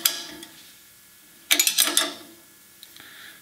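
Ratcheting wrench clicks while nuts on a VW Beetle carburetor are snugged down lightly during engine reassembly, a short quick run of metallic ticks after a pause, close and clear with no talk.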